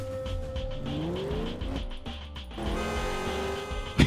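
A car in a police roleplay game revs and accelerates with engine pitch sweeps, tire noise and brief impact thuds as it crashes about, loud and continuous, ending in a sharp bang.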